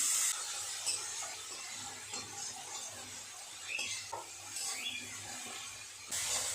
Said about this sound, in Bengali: একটু নেড়ে চেড়ে পেঁয়াজটাকে ভেজে নেব